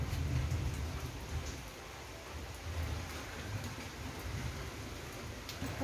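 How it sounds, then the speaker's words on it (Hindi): Heavy rain pours steadily, a dense hiss with low rumbling underneath, continuous and fairly close throughout. "बहुत तेज से बारिश हो रही है"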